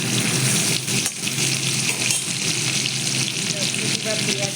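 Cumin seeds and bay leaves fry in hot oil in a wok, a loud, dense, continuous sizzle up close with stirring mixed in and no clear talking.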